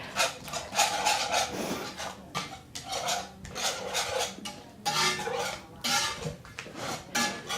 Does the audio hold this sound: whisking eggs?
yes